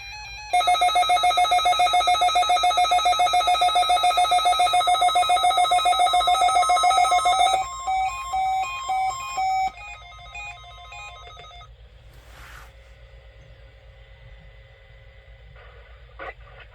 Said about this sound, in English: The preceding signal was a test of the public warning and alarm for transmitters in the Florida listening area